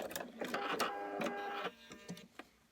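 A sewing machine stitching quilt pieces for a pumpkin quilt, a close mechanical whirring run of stitches lasting about a second and a half, then a few short clicks and knocks as it stops.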